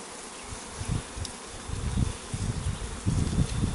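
Blue Mountain bees in Jamaica buzz around close by, a low droning hum that swells and fades in uneven pulses over faint outdoor rustle, with no talking.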